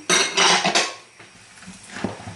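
Poppy seed filling being mixed with sugar and large pieces of dried fruit in a bowl for a royal poppy seed cake, with loud clinking scrapes of a utensil against the dish, then quieter scraping.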